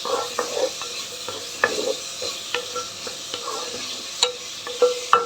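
Cauliflower curry with ginger paste stir-fries in a pan: a soft steady sizzle runs under repeated spatula scrapes and clinks against the pot, with no voices.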